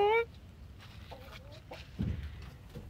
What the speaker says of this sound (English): My dad is keeping chickens in there